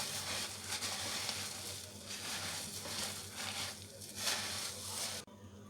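Puffed rice being stirred through melted jaggery in a pan with the flame off, a steady close scraping and rustling crackle that runs continuously with soft swells, then stops abruptly near the end.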